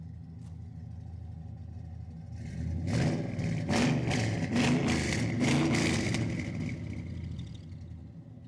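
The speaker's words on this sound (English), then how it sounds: "Catch a little tailpipe sound there." A 1965 Chevrolet Bel Air hot rod with a fuel-injected LS engine swap idles with a low exhaust rumble, then gets a series of sharp throttle blips that swell into louder revving bursts before easing back.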